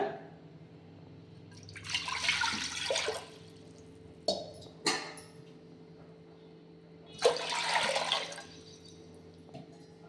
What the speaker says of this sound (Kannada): ಒಂದು ಕುಕ್ಕರ್ ಇಟ್ಕೊಂಡಿದ್ದೀನಿ ಇದಕ್ಕೆ ಇವಾಗ ನೀರು ಹಾಕ್ಕೊಳ್ಳೋಣ